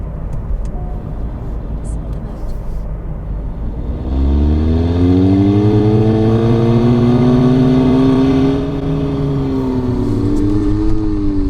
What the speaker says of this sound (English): with this fake engine noise on